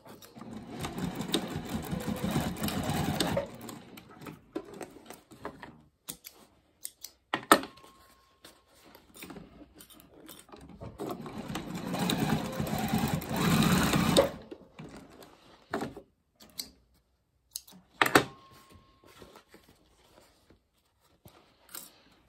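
A sewing machine stitches a fanny pack seam in two bursts of rapid whirring, each several seconds long and separated by pauses with small clicks and fabric handling, close and moderately loud.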